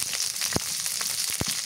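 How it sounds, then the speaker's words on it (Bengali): Onions frying in a pan with green chilies, a bright hissing sizzle close by, punctuated by two sharp knocks or scrapes of a utensil, no speech. "পেঁয়াজ ভাজা হচ্ছে"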